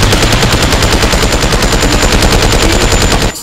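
Rapid automatic gunfire in the Kaiju Universe video game, a loud, dense stream of evenly spaced shots rattling continuously for a few seconds before cutting off abruptly at the end.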